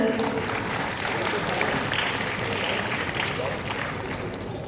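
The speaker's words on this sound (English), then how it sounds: "Can we have a round of applause for our panel?" Audience applause at a world leader summit at XLRI Jamshedpur, honoring a panel: a steady wash of many hands clapping in a large room, fairly even in loudness and fading slightly toward the end.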